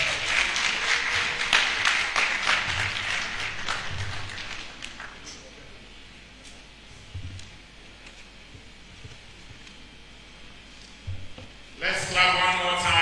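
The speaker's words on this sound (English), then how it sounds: "Let's clap one more time to welcome our second speaker for the day." Audience clapping at a commemorative lecture welcomes a speaker, dense at first and then fading into quiet room tone; a voice then speaks near the end.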